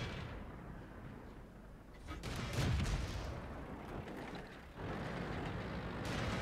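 Tank cannon fire in World of Tanks, a tank destroyer being hit: dense booming shots and rumbling blasts over steady battle noise, one heavier thump near the middle, no talking.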